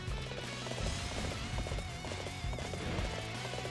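Horse hooves galloping in the Dynasty Warriors 8 video game, a quick rhythmic clip-clop pounding steadily over dense game music and effects.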